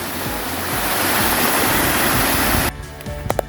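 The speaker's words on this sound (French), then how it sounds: "bien mouillé la tête carrément sous les cascades" Loud, close roar of a waterfall cascade on an ultra-trail mountain route, continuous rushing water for most of the clip before it cuts off abruptly into quieter surroundings with a few sharp knocks.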